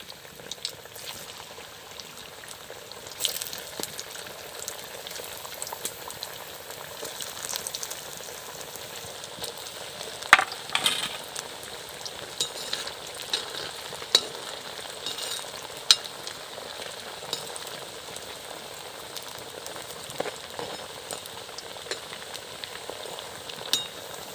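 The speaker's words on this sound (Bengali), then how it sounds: "এটা ভাজা মোটামুটি হয়ে এসে আর একটু লাল করে নেব।" Semolina and raw potato snack balls deep-fry in hot oil with a steady bubbling sizzle, scattered sharper pops and crackles rising above the continuous fizz at moderate volume.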